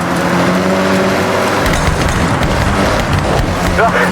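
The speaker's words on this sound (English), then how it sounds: "You can hear the engine has more power." A turbocharged rally car engine in the video game Forza Horizon roars at high revs, a loud, rough, continuous drone with shifting pitch, and a voice briefly speaks over it.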